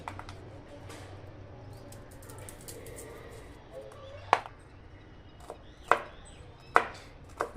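Garlic cloves minced with a knife on a board produce a few sharp isolated chops, spaced out and growing more frequent toward the end over a quiet kitchen background.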